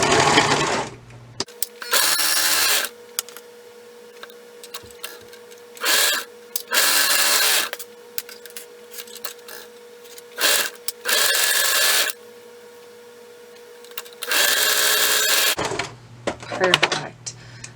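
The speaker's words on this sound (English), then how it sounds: "I'm going to go ahead and sew these together" A sewing machine stitches the seams of stretchy tights in repeated bursts of fast mechanical whirring, separated by quiet pauses, up close and loud.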